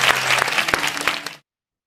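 Audience applause at an AI conference summit welcoming the next speakers: a dense burst of clapping with a few sharper claps, then it stops abruptly into silence.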